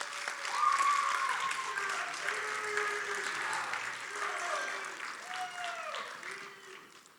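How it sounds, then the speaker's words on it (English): Audience applause at a college national signing day ceremony, a steady crowd clapping that swells early and holds for several seconds before slowly tapering off. "big round of applause for this group right here"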